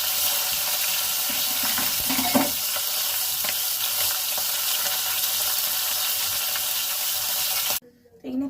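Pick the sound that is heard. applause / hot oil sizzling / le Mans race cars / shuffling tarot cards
hot oil sizzling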